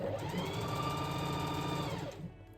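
A sewing machine stitches two pieces of fabric together with a fast, steady mechanical whir and rapid needle clatter that runs evenly for about two seconds, then stops abruptly.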